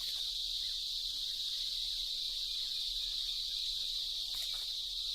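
Cicadas in an Indian forest singing in a steady, high, monotonous buzz, a continuous even drone with no pauses, moderately loud and without voices.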